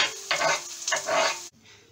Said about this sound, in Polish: Cebulka z czosnkiem, cebulka z czosnkiem, na patelni smaży się.